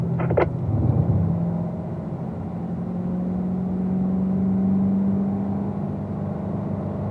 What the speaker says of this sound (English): Nice acceleration here as we work our way here towards turn number 2